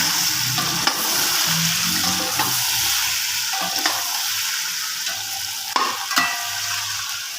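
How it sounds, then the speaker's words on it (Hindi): Chicken fries in a pan with black pepper, a constant loud sizzle broken by occasional scrapes and clinks of stirring, close up with no talking. "जब गोश्त की अच्छे से भुनाई हो रही है"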